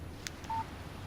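A short electronic phone alert for an incoming text message in the game Alan Wake Remastered: a brief high chirp followed by a steady tone, faint and alone without talk.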